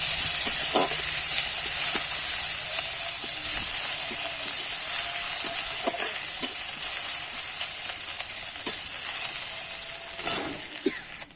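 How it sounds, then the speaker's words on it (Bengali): Crushed green chili and ginger fry in hot oil with a bright, continuous sizzle, close and steady, broken by occasional scraping clicks of stirring. "দিয়ে একটু আমি কিন্তু ভাজা ভাজা করে নেবো"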